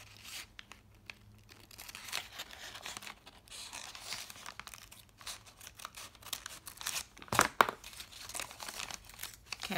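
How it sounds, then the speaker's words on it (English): A plastic bag being cut into a triangle shape for a homemade teepee: close, irregular crinkling and crackling with a few sharp snips and tearing bursts, quiet overall, with no talking. "I am going to cut up and make a triangle shape."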